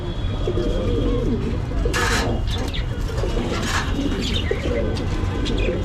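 Paired pigeons coo steadily and close by, with a few sharp chirps and flutters breaking through a constant background hum.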